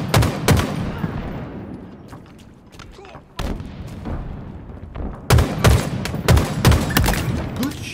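Loud close gunfire in a Halo Infinite Ranked Arena Oddball multiplayer match comes in sharp shots and rapid bursts, with a brief lull before heavier volleys resume.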